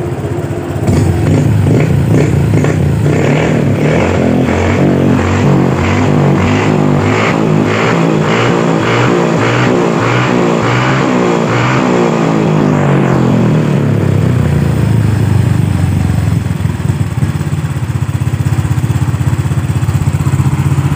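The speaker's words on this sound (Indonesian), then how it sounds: "motor sudah bisa setensioner dan mesin tidak berisik lagi" A motorcycle engine, just repaired at the camshaft and no longer noisy, runs steadily and loudly up close, revving rhythmically before settling into a smooth, even idle.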